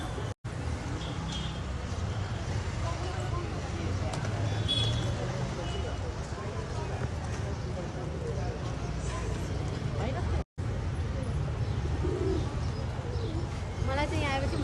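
Pigeons coo softly while being fed outside a Ganesh temple in Bouddha, their low murmuring calls running under steady crowd ambience with brief flutters and shuffling nearby.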